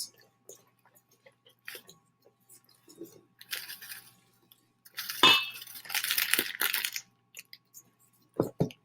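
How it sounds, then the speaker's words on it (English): Brownie mix ingredients are stirred in a bowl, heard as close, irregular scraping and clinking with bursts of busier stirring in the middle and a few sharp knocks at the end. No one speaks. "now, watch as I stir in my"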